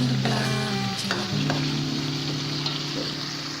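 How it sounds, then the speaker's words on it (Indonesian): Chili paste fries in a pan as a continuous close hiss and sizzle. Sustained musical tones and a few light clicks sit over it. "Kita masak kembali cabainya."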